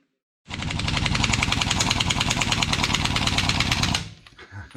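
A Harbor Freight 20-gallon air compressor starts abruptly and runs for about three and a half seconds with a loud, rapid, rattling piston hammer, then cuts off, leaving faint clatter in a garage.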